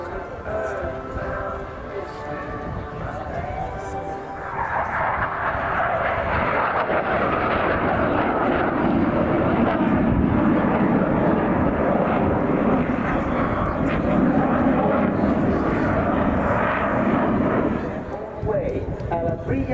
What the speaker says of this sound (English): Straight up into the sky, a Nibbelman climb.